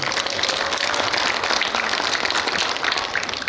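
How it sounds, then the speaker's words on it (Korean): An audience claps loudly and steadily at a live comedy talk event, a dense, continuous round of applause filling the whole stretch without pause. "박수 크게 보내."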